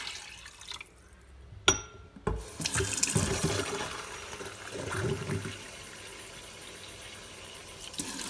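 Water pours into a pot of rice in bursts of splashing and trickling, with a couple of sharp knocks from the vessel in between, heard close with no talking.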